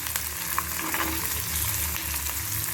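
Coconut chutney ingredients (ginger, garlic and coconut) sauté in a pan, giving a steady, close sizzle and crackle with faint stirring scrapes throughout. No voices.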